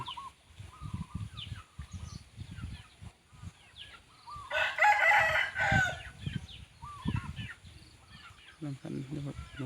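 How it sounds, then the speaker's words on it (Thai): A rooster crows once, clear and fairly close, in the middle of outdoor sounds with intermittent clucking and someone speaking quietly around it. "ผู้แก่ขัน"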